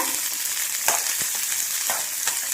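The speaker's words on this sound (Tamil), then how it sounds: "நெல்லிக்காயும் போட்டு நல்லா வதங்க விட்டுக்கலாம் நல்லா எண்ணெயில் வதங்குற அளவுக்கு நல்லா வதக்கிக்கோங்க" Indian gooseberries sautéing in oil in a pan for a chutney, a steady bright sizzle with a few soft stirring knocks of the spoon, close and continuous.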